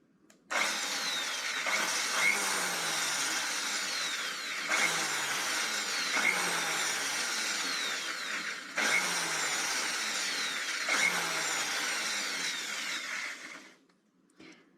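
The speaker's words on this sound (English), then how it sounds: "drilling into an hard drive is not something you wanna do." A power drill bores into a hard drive in a homelab, a steady loud whine with several brief dips where the bit catches or the trigger eases, running continuously for about thirteen seconds with no talking.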